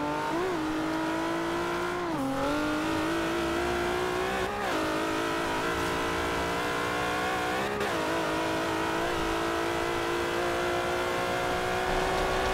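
A car engine in the Forza racing video game revs hard and climbs through gears, with repeated pitch drops at each shift under a continuous loud, close engine whine and no talk.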